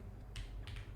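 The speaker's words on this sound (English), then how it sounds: "we'll just type it for now" Keyboard typing while entering an IP address during a HackTheBox walkthrough, a few short bursts of key clicks across a second, fairly quiet.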